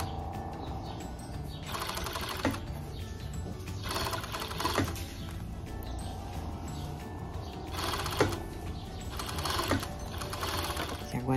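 A sewing machine stitches the shoulder seam of a blouse in repeated close bursts of rapid needle chatter, with short pauses between runs and a voice faintly beneath.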